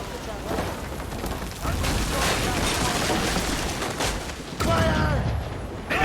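Ship cannons fire in a naval battle in the video game Assassin's Creed Rogue: a continuous roar of heavy booming blasts with a fresh loud volley near the end, under shouted voices.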